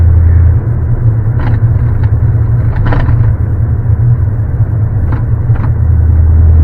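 A 1989 C4 Corvette with a V8 and six-speed manual drives along, its engine a loud, steady low drone heard from the cabin, with a few brief clicks and rattles over it and no speech.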